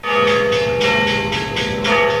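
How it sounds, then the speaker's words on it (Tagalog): The bells of San Agustin Cathedral ring out loudly in a steady peal for the arrival of Pope Francis, bright overlapping tones swelling with each strike and sustaining throughout. "Pinatunog din ang kampana ng San Agustin Cathedral nang dumating si Pope Francis"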